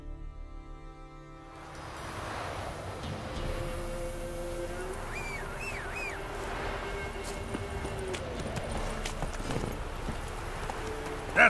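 Roach the horse gallops in The Witcher 3, with hooves clip-clopping steadily over ambient game sounds and tonal music for several seconds.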